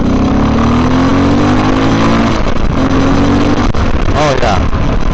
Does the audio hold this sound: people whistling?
no